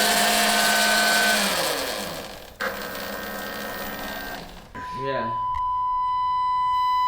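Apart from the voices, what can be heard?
Nucular P24F controller calibrating Talaria XXX motor, beeping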